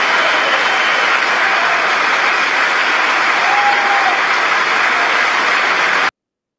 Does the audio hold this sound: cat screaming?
no